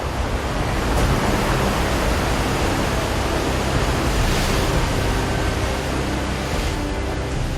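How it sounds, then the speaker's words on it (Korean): Rough sea surging under an overcast sky off the Indonesian coast, a steady, loud, broadband wash of heavy surf and wind with no talk, continuous for several seconds. "하늘은 잔뜩 흐리고 파도는 거세게 출렁입니다"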